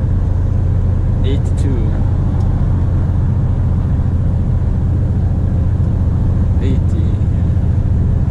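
A Mercedes truck engine pulling a trailer uphill in 11th gear, a loud steady low drone running throughout the cab, with a driver speaking briefly over it.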